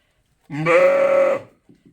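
A ewe penned alone in a lambing jug, away from the flock, lets out one loud, close, drawn-out bleat, followed by a few faint soft sounds.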